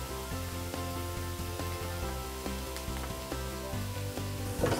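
Chili-rubbed steak glazed with a brown sugar blend sizzles on a hot grill, a steady hiss and crackle running throughout, mixed under soft background music with no talk.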